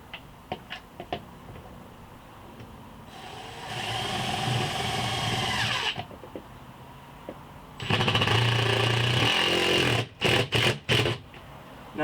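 A power drill drives lag bolts into a wall to mount a plastic air hose reel bracket in a small garage, with two long loud whirring runs followed by several short bursts and brief pauses.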